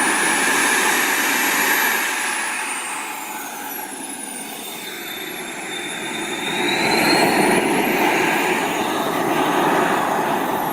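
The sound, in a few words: RC model jet turbine engine running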